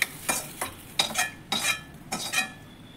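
Cooked ridge gourd is scooped out of a pan into a mixer jar. A spoon scrapes and clinks against the metal about five times in an uneven rhythm, quiet and close, with no talking.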